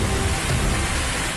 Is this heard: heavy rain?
yes